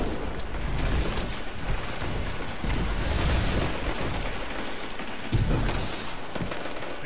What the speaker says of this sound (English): that's a grenade I don't want to step in